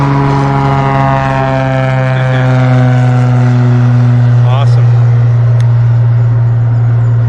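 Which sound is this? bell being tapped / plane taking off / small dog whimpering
plane taking off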